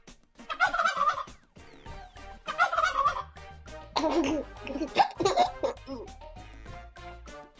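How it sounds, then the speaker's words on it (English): Turkeys gobble in loud, rapid, warbling bursts, three main rolling calls in quick succession close to the listener, with no talking over them. "Turkey."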